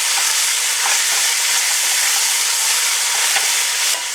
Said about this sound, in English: We're going to give this a good turn and get it in the hot oil so it'll start breaking down.